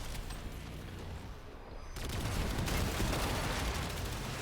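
Heavy Arch Gun fire in Warframe during a Profit Taker fight, a dense, continuous roar of rapid shots that swells loud after a brief dip, with booming impacts layered under the game's effects.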